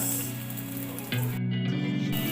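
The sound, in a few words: chopped onions frying with green chili masala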